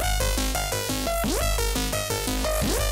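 A synth arpeggio cycling rapidly through bright, buzzy notes in a repeating pattern over a steady low bass, with rising pitch sweeps.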